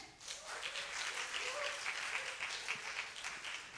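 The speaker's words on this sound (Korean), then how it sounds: "박수 다시 한번 크게." Church congregation at a Korean youth mission worship service applauding, steady dense clapping that fills the room throughout with no pauses, a faint voice briefly audible underneath.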